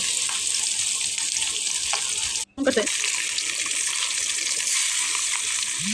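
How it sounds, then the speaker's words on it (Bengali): Marinated hilsa fish frying in oil in a wok, a dense close hiss of sizzling that carries on steadily, with a brief dropout midway. "কড়াইতে তেল বসিয়ে দিয়ে মাছগুলো ভালোভাবে ভেজে নেব"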